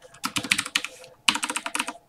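Rapid typing on a computer keyboard, two bursts of quick, close key clicks separated by a brief pause.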